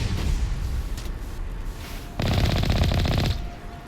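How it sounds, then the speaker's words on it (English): Mass Effect combat with a rocket blast and rapid gunfire, heavy booming rumble giving way to a loud sustained burst of machine-gun fire midway, then a brief lull. "Oh, rocket."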